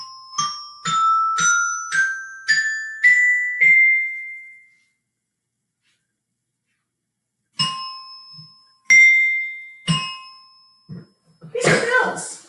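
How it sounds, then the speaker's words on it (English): Small tuned bells, a classroom instrument, are struck one note at a time in a rising sequence, then after a silence a few more clear chimes ring out, ending with a brief rustle. "These are bells."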